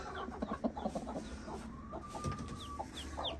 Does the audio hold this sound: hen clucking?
yes